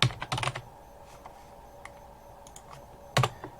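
Computer keyboard typing, a few quick clusters of close, crisp key clicks with pauses between, quiet and without talking.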